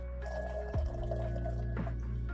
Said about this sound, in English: And now we're just gonna pour in 2 or 3 ounces of the tonic water.